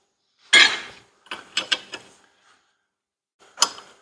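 A wrench works a nut on the lower control arm of a 2005 Equinox, giving sharp metallic clanks and ratcheting clicks in a short cluster, then one more clank after a pause, close and without talking.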